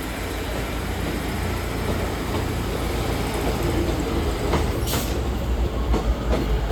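A Northern service train pulls out of Newcastle station, its steady, loud rolling rumble and rail clatter filling the platform nearby, with a brief squeal and some clanks toward the end.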